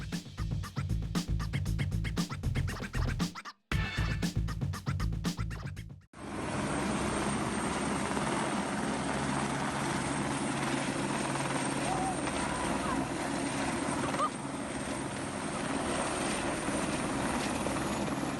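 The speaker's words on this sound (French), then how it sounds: "des hélicoptères de lutte anti-incendie ont utilisé des piscines privées pour s'approvisionner en eau" Rapid rotor chopping pulses at first, then gives way to a sustained loud engine roar of firefighting helicopters flying overhead during forest fires in Portugal, continuing steadily to the end.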